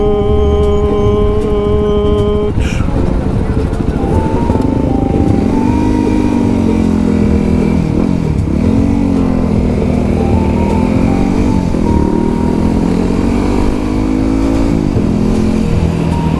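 A motorcycle engine revs steadily and loudly for the whole stretch, its pitch rising and falling in repeated swells after an abrupt start, with no talking over it.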